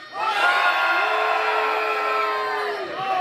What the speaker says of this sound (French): Moi, je trouve que vous avez crié fort